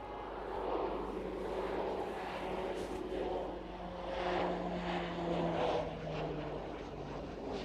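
Beechcraft King Air propeller plane on final approach to East Midlands airport, a faint, distant drone that swells and fades gently under outdoor background noise.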